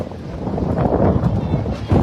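Strong wind buffets the microphone outdoors in Oroquieta City, a constant low roar that swells in gusts, with a voice faintly present underneath.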